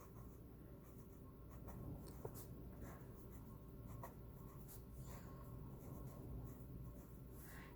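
Handwriting of a geometry note, a steady soft scratching of pen or pencil on paper running continuously at close range, quiet throughout with no talk.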